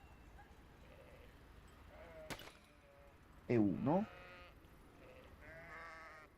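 Sheep bleating in a video game, one clear loud bleat followed by a fainter one, over quiet background ambience with a brief spoken word.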